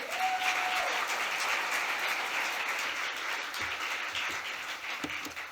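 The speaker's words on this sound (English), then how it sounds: "Could we applaud that again?" Sustained applause from a large crowd at a State of the City address in New Rochelle, steady clapping filling the room for several seconds before slowly thinning out.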